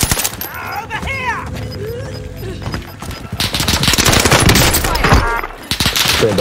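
Video game gunfire in a first-person shooter match on the Rebirth map: rapid bursts of shots and automatic fire mixed with in-game effects, while players talk excitedly over the action.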